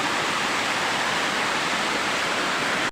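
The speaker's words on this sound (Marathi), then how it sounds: "छोटा मिनी धबधबा आपल्या गावचा" A small village waterfall in the Konkan countryside gives a steady, loud, close rush of falling water, unbroken and even throughout, with no voices over it.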